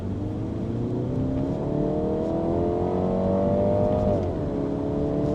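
Top-trim 2017 Mini Cooper S Countryman accelerating hard: a steady, rising engine drone climbs in pitch, then drops briefly around a gear change near the end and keeps pulling, close and loud throughout.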